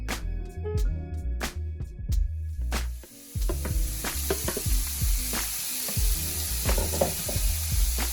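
Bell pepper, onion and celery sautéing in oil in a pan: a crackling sizzle with frequent pops and stirring clatter, a brief lull near the three-second mark, then steady frying again, close and without speech.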